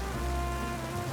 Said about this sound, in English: I love the rain sounds.